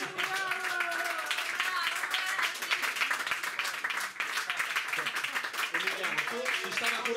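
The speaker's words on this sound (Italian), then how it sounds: "un grandissimo applauso a Emiliano Ferracuti" An audience gives Emiliano Ferracuti a dense, sustained round of applause and clapping that fills the whole stretch at steady loudness, with voices mixed in under it.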